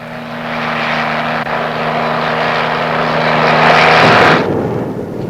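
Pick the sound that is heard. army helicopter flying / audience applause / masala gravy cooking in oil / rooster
army helicopter flying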